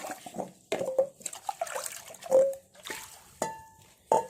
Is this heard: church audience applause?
no